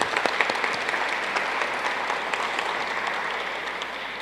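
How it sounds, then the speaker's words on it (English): Steady applause from an audience at an Alabama A&M University and Toyota event, many hands clapping in a dense, even wash that holds at a moderate level for several seconds, with no voices on top. "give a round of applause"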